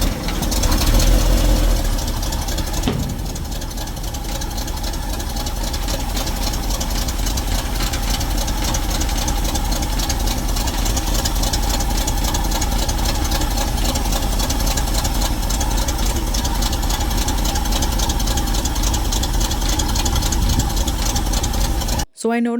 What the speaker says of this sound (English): And what do you know? The truck started.